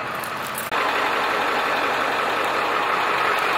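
Big Dirty, a 6.7 diesel pickup truck, idles while warming up outdoors, a steady loud droning rumble that cuts briefly near the start and then runs on evenly.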